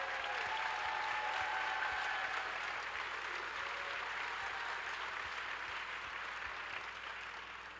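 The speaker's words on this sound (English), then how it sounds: "let's give a round of applause for all that our adjunct faculty do for us" A crowd at a college-wide faculty event claps steadily for adjunct instructors, a broad even patter of many hands at moderate distance that slowly tapers near the end.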